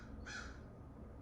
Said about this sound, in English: There's this bird that's screaming.